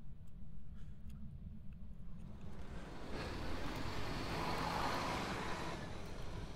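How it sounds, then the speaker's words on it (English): In the horror game Phasmophobia, a bus engine rumbles low and then swells into a louder whooshing roar as the vehicle pulls away, with a steady road-noise hiss. "I think the bus, it just drove away."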